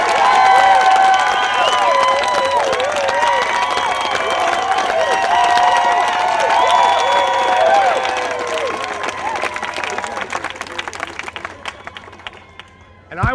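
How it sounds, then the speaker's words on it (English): Loud crowd applause and cheering for a home-building team at an event, dense and sustained with whoops over it, then thinning into scattered claps toward the end. "give yourselves a big round of applause for your efforts"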